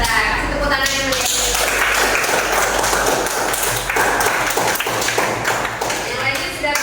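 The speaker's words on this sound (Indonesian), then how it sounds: "Kasih tepuk tangan yang meriah." A classroom of students applauding, a lively, uneven patter of many hands clapping and tapping, with voices talking loudly over it throughout.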